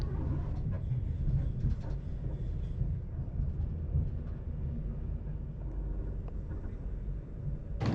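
An Avanti Pendolino train slowly pulling out of London Euston, heard from inside as a steady low rumble and rolling hum with faint rattles, constant and close.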